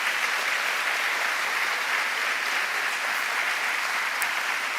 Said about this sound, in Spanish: Fuerte el aplauso, vamos.